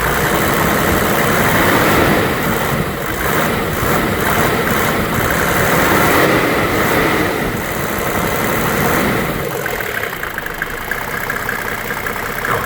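A 1995 Mercedes E300 diesel W124 engine idles steadily up close, a loud continuous clattering rumble with a rough diesel knock, running unbroken without speech.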